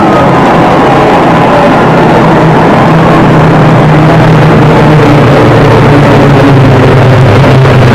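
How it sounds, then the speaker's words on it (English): CASA military aircraft fly over in formation at an air display, trailing smoke: a loud, continuous low engine drone that holds steady throughout. "smoke is released through the exhaust of the aircraft to add a little bit of a flair to the air display"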